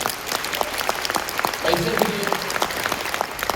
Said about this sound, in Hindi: जोरदार ताली दीजिए इस बिजनेस के लिए।